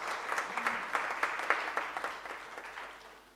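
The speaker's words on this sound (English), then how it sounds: "Let's give them a round of applause" Audience applause follows a panel discussion in a hall, steady and fairly faint, with scattered claps that swell briefly and then taper off near the end.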